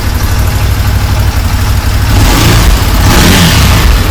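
A Massimo Militia 1000 UTV engine with a spark fault running rough, revving loud and close as the throttle opens, with a swelling, raspy roar.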